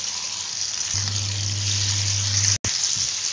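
Fish sizzles and crackles in hot oil as a steady, close, moderately loud hiss, with a low hum underneath and one brief dropout near the end.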